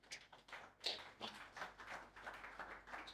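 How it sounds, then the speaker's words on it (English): A single person clapping hands in a steady run of quick, sharp claps, close and fairly faint with no talking over it. "Let me clap for these guys."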